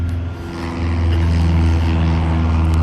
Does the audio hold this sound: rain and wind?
no